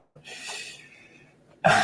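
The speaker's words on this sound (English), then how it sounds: "Sorry. Clear my throat." A raspy, breathy rumble of someone clearing their throat, ending in a brief, louder cough-like burst, close to the listener.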